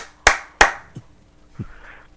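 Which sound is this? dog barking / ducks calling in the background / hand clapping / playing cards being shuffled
hand clapping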